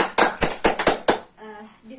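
A classroom of students claps for a classmate during a biology lesson, a handful of sharp, uneven claps over about a second, followed by a brief voice.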